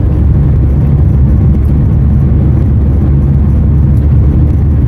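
Loud, steady engine rumble heard from inside a moving 1980 Volkswagen Scirocco GLS Mk1, a deep, continuous drone with road noise and no talking.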